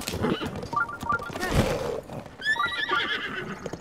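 Horse whinnying in The Legend of Zelda: Breath of the Wild, a near, high neigh with a wavering tail, mixed with hoofbeats and other game sound effects.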